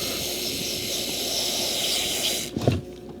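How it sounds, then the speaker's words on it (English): A steady, loud hiss of contact cleaner sprayed into a Volvo V50 ECU connector's pins for a couple of seconds, then a short clatter as it stops. "spray some contact cleaner"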